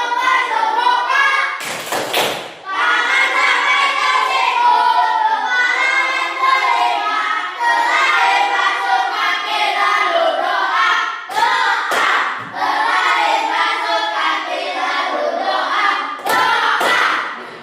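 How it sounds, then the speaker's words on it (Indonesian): A classroom of students performs the tepuk wudhu clapping chant, singing together in a steady rhythmic chorus, with sharp group claps breaking in at a few points; loud and close, filling the room. "Ayo, tepuk wudhu."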